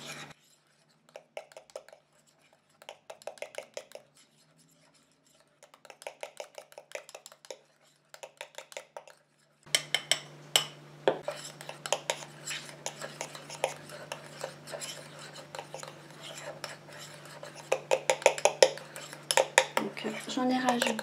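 A spoon scrapes and clinks around a pot as a cream mixture is stirred, in short bursts at first, then steadier and busier clatter over a low hum, close and fairly quiet.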